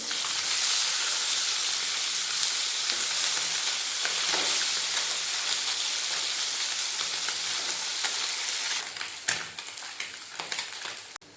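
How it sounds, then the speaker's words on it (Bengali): Small puti fish frying in hot oil in a pan, a loud, steady close sizzle that runs the whole time, with a few sharper crackles and pops near the end and no talk. "মাছগুলো দিয়ে দিয়েছি এরপর মাছগুলো ভেজে নেব"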